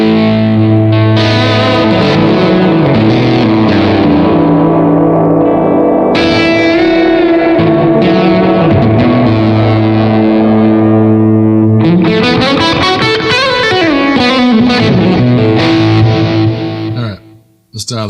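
An electric guitar played through a Blackstar Amped 1 pedal amp, with a held note sustaining as a drone while new distorted, echoing notes and chords are played loudly over it, cutting off abruptly near the end.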